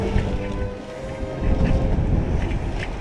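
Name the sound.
wind on the ocean aboard sailboat Taravana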